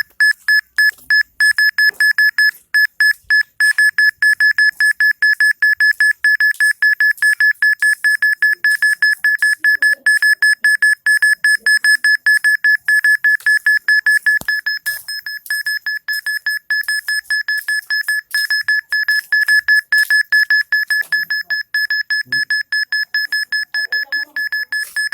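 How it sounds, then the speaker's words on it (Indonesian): Proximity alarm from the Locus GIS mapping app on an Android phone, a loud, steady stream of rapid electronic beeps at one bright pitch, pulsing repeatedly for the whole stretch with no other sound. "Semakin cepat bunyi alarmnya, semakin dekat dengan posisi titik."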